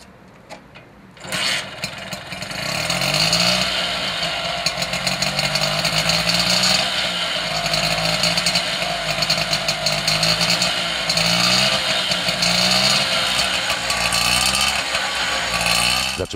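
A Moto Guzzi Cardellino motorcycle's freshly restored engine fires up and settles into a steady, loud, buzzing idle that runs continuously, heard alone without talk.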